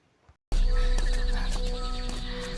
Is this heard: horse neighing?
yes